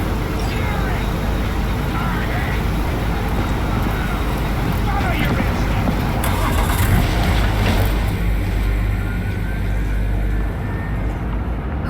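A car driving in the Cyberpunk 2077 video game, its engine and road rumble steady and loud throughout, with people talking over it.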